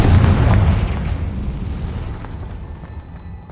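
A single loud, deep Confringo blast booms in Hogwarts Legacy on PS5, then its rumbling tail fades slowly over a few seconds with no voices.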